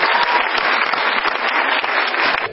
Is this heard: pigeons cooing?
no